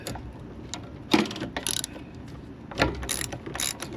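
A ratchet loosens a bolt on the carburetor of a Kawasaki FB460V engine, giving a few short bursts of close, rapid clicking separated by quieter handling noise.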